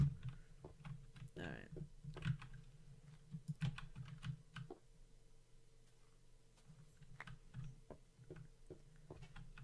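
Computer keyboard typing and mouse clicking during a Minecraft Alpha 1.1 session, a steady run of light, close taps and clicks under a faint constant background hum, with brief speech at moments.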